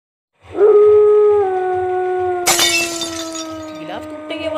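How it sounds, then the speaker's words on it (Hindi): Glass shatters with a sudden sharp crash and scattered tinkling, cutting through a long, eerie, wavering howl that plays through the whole scene. "गिलास टूटने की आवाज कहाँ से आई?"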